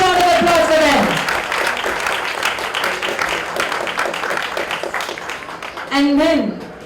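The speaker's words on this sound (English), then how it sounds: "A huge round of applause for them." Applause from a crowd at a civil society gathering in India, dense and continuous for several seconds, partly under a loud voice speaking at the start and end.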